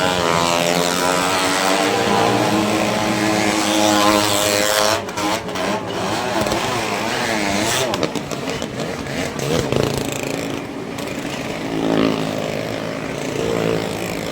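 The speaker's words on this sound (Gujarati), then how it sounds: "હજી તો બાઇક જ ફરે છે." Motorcycles circle the wall of a well-of-death show at the Madhavpur fair, their engines roaring loud and continuous with repeated rising and falling whines as they sweep around, mixed with crowd din.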